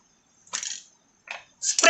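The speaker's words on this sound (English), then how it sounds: "Now I'll spray this contrast" Aerosol can of snow white contrast paint sprayed onto a metal part for wet-method magnetic particle testing, heard as three short hissing bursts, close and fairly loud, with brief pauses between them.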